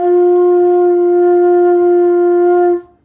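A single sustained flute tone held steadily for under three seconds, with a strong fundamental and stacked overtones, played with an incorrect pitch when the F at the top of the staff is intended, then stops abruptly.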